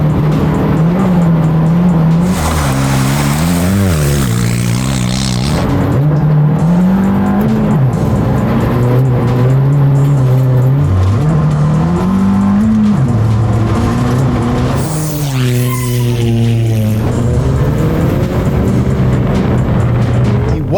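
A front-wheel-drive rally car races a speedrun course around hay bales, its engine loud and close throughout, pitch climbing and dropping through gear changes, with a sharp rev burst and tire squeal near the end.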